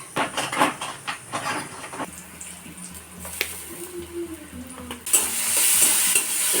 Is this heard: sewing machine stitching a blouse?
no